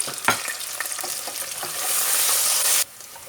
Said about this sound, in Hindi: अब इसमें ये मैं फ्रेश जिंजर एंड जो मेरे पास ये गार्लिक है इसको इंशाल्लाह डालती हूँ।